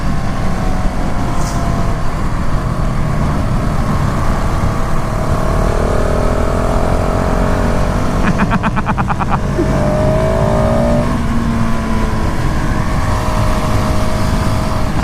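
A 2019 KTM SMC R motorcycle is held at full throttle in third gear during a test ride, its loud, continuous engine drone mixed with heavy wind rush throughout.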